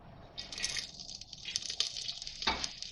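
A small onion dropped into a hot pan for sarson ka saag, giving a steady crackling sizzle with brief bright spits and a sharper pop near the end, close and moderately loud, with no talking.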